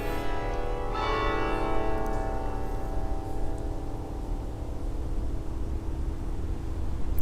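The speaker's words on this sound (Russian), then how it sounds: "Такой колокольный перезвон." Church bells pealing over Belgrade on a morning, a layered ringing with sustained tones heard at a distance over steady outdoor hum, no voices.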